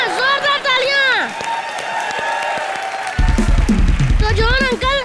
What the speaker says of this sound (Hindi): यहाँ जोरदार तालियां